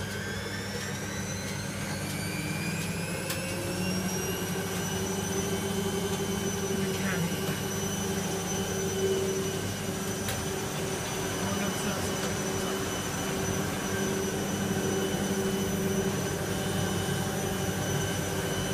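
Laundromat washing machines run a loud spin cycle together: a constant mechanical roar with high whining tones that climb as the drums speed up, heard from close by.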